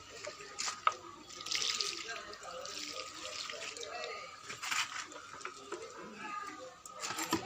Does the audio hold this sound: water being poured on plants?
yes